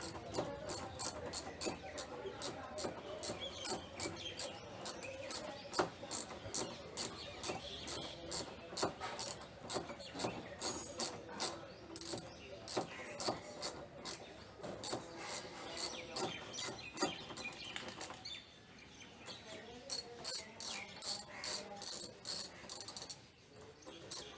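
Wrench clicking as a 12 mm nut is loosened on a Yamaha R15V3 motorcycle, a long run of quick ratcheting ticks, fairly faint and close, with a brief pause near the end.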